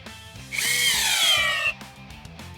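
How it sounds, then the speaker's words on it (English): A cordless Ryobi drill whirs up loudly for about a second as it drives an 8-inch timber screw into pressure-treated wood, then winds down, leaving a faint mechanical hum. "We will be driving 8-inch timber locks into this pressure treated wood."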